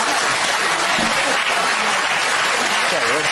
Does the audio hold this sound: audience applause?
yes